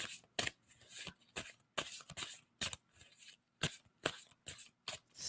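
Tarot cards are shuffled by hand in a run of quick, crisp riffling bursts repeating every half second or so, close and fairly quiet.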